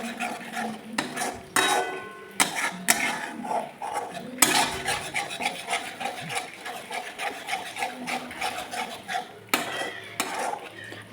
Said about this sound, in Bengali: দিয়ে ভালো করে মশলাটাকে নাড়ব, মশলাটাকে ভালো করে কষিয়ে নিতে হবে আমাদের।